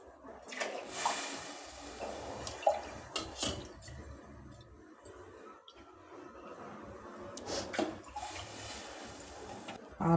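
Water poured into a cooking pot while making millet kichadi in a home kitchen, heard as intermittent splashes and drips with a few brief louder pours, fairly close and without talk.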